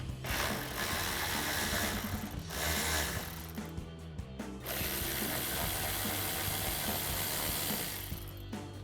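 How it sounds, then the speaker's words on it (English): Socket wrench ratchet clicking steadily while backing out two 8 mm bolts from the front splash guard of a Jeep Gladiator JT, a dense, close mechanical clatter that runs almost without pause, with a brief lull midway. "So our first step is to remove these 2 8 millimeter bolts."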